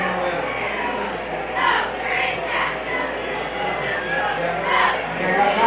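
A crowd at a high school football game between Oak Ridge and Bearden makes a steady murmur with swelling cheers, heard under a play-by-play announcer talking over it.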